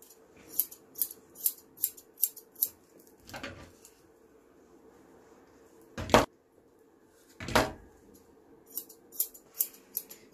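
Grooming scissors snip a dog's fur around the head and ears, giving quick crisp clusters of cuts with a few pauses, close and fairly quiet, with a couple of louder rustling bumps in between.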